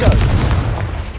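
A Confringo spell explosion in Hogwarts Legacy, one loud booming blast with a brief rumbling tail, close and dominant, fading over about a second.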